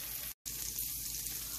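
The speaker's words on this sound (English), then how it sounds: "This is how it looks while the urad dal is frying." Urad dal frying in oil with chilies and mustard seeds makes a steady, quiet sizzle with faint crackling, broken by a brief silent gap.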